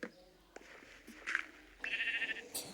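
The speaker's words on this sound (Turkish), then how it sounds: "Ah koyun çıktı." A short, wavering bleat of a sheep stands out near the end, following a few faint bleats and scattered background noises.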